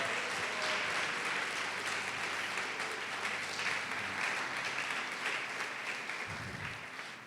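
A church congregation applauds steadily during a sermon, the dense clapping sustained and fairly distant throughout.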